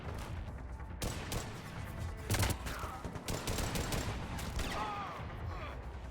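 Rapid gunfire from a Mass Effect 3 firefight, dense bursts and impacts crowding together under a steady layer of combat noise, with a voice briefly heard amid the shooting.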